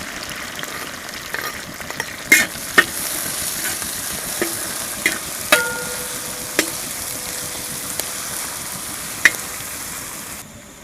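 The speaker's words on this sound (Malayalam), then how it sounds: "ഇഞ്ചി, വെളുത്തുള്ളി, പച്ചമുളകെല്ലാം നല്ലതുപോലെ ഫ്രൈ ചെയ്തെടുത്തിട്ടുണ്ട്." Crushed ginger, garlic and green chili fry in a pan with a soft, steady sizzle, broken by a few sharp clicks and taps of a utensil against the pan, close by with no voices.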